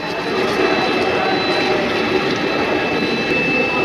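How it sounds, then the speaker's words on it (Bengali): A denim washing machine takes in water, a steady loud broadband rush of filling flow with a faint mechanical hum running unbroken throughout. "40 লিটার পানি এসে নিবে।"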